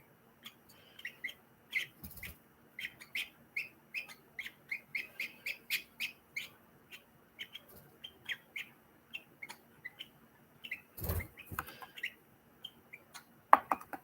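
Three-week-old baby lovebird chicks are fed by their father, giving a rapid run of faint, high, squeaky begging chirps in close, irregular bursts, with a couple of soft rustling thumps between them.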